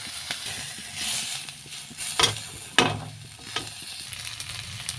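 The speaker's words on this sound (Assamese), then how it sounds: "এই ৰঙালাও কোমলীয়া আগৰ পাতখিনি অকণমান ভাজি লৈছোঁ" Tender young pumpkin leaves fry in a pan with a spice mix, a soft hiss of sizzling oil broken by several sharp scraping stirs, close and moderately quiet, no voices.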